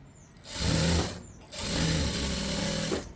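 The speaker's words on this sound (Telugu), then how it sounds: "ఇక్కడ నుంచి కుట్టుకుంటూ వచ్చేసేయాలి ఇలాగ" Close and loud, a sewing machine stitches a lined blouse in two sustained runs separated by a brief pause, with a motor whine and no talking.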